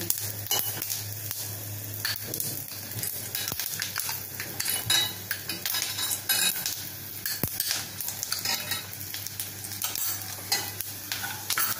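Coarsely ground peanuts sautéed in a pan with coconut slices for panchamrut, a continuous close sizzle broken by frequent spoon scrapes and taps against the pan, no talking.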